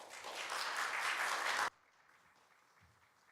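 A church audience breaks into warm, dense applause for two reverends, building briefly and then stopping abruptly, leaving a quiet room.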